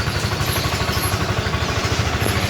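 A Sym GTS 250i scooter engine running at idle nearby, a steady throbbing putter with a fast even pulse and no talk.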